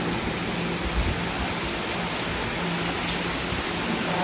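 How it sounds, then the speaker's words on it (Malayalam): Heavy rain pouring down in a home yard, a dense, steady hiss of water hitting the ground that stays loud and even throughout with no pauses. "മുറ്റത്ത് സൂപ്പർ മഴ പെയ്യുന്നുണ്ടോ"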